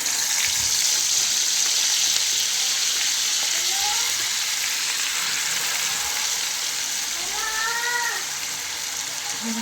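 Masala frying in hot oil in a kadhai, a steady close sizzle running throughout, with a few faint higher squeaks toward the end.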